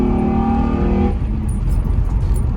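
A sixth-generation Honda Accord with a ported throttle body accelerates hard during a pull, engine note rising and droning loudly up close before fading into broadband road and wind rush.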